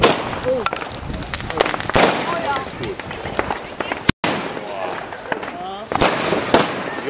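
Several firework rockets burst in sharp, loud cracks spread across the stretch, with a double bang near the end, and people talk between explosions.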